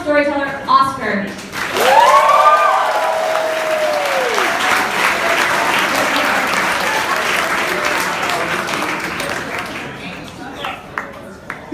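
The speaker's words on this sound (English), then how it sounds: "Please welcome with a big round of applause for our final storyteller, Oscar." A big round of applause greets the final storyteller at a storytelling event, loud sustained clapping from the audience with a whoop near the start and voices faintly under it.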